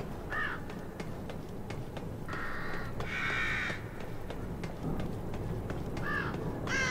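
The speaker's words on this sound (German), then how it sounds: "Geht weg, ihr scheiß Raben." Ravens in the video game The Evil Within, several harsh caws at irregular intervals over a low ambient rumble, some louder and closer than others.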